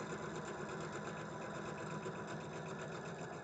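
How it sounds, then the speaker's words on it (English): Close, steady hum of a sewing machine chain-piecing quilt blocks with a quarter-inch foot at a 2.0 stitch length, running without a break. "I'm sewing them together. I'm just going to chain these babies right through."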